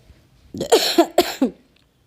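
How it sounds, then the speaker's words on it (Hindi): Several coughs close by, a short cluster of three or four harsh bursts, with no talking. "मुझे खांसी भी हो रही है थोड़ी सी"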